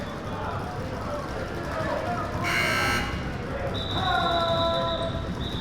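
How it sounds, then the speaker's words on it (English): A loud electronic buzzer blares once at a basketball game, followed by a second sustained buzz over steady crowd noise and chatter. "CJ Parker didn't hear the whistle, didn't hear the buzzer"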